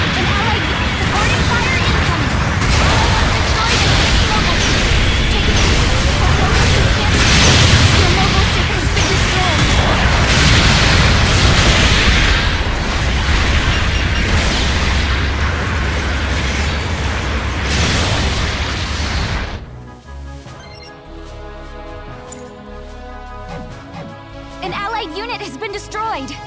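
Supporting artillery fire in Gundam Battle Operation 2, with dense, loud, continuous booming and crashing explosions for about twenty seconds before an abrupt drop to quieter game sounds, all under a voice speaking.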